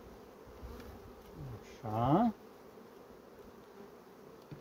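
Honey bees buzz around a frame of honey lifted from a hive, a steady insect drone under the beekeeper's voice, with a short louder burst of buzzing near the middle.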